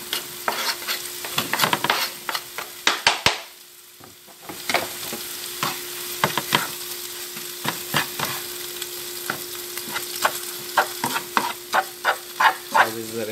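Eggs and onions fry in a pan, a steady sizzle broken by repeated scraping clacks of a utensil stirring, with a brief lull partway before the stirring resumes, close and fairly loud with no talk.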